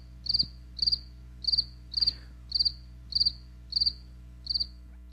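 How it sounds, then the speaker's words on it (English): Crickets chirp in a regular, evenly spaced series of about eight short, high trilled pulses, loud and close over a low steady hum. "Those crickets go on forever."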